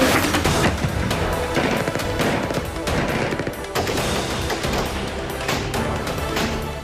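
Rapid, dense gunfire rattles without pause amid the war in Afghanistan, overlapping bursts and sharp cracks forming a loud, continuous barrage with no clear gaps.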